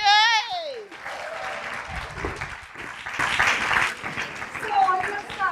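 Audience applause fills a room at an improv comedy show at a zero waste summit, with steady clapping and some cheering throughout, and a voice heard over it at the start.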